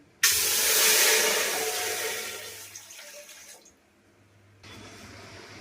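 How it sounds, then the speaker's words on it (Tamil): Water poured from a glass into a pot rushes with a loud steady splash for a few seconds, stops briefly, then resumes more quietly. "அந்த கிளாஸாலே 6 கிளாஸ் தண்ணி ஊற்ற போகிறோம்"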